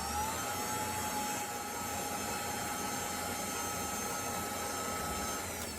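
Stand mixer whirring steadily at increased speed while kneading custard bread roll dough, a loud continuous motor drone with a high whine holding through the whole stretch, no talking.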